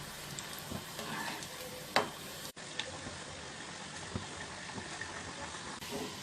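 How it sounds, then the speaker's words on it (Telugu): Bread gulab jamun balls frying in oil over a medium flame, giving a steady low sizzle with faint bubbling and occasional small ticks, a brief dropout midway. "వేసుకొని మీడియం ఫ్లేమ్లో ఫ్రై చేసుకుందాం"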